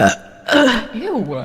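A young woman burps loudly, a short croak followed by a long, wavering belch that rises and falls in pitch, with a brief remark of disgust from someone nearby.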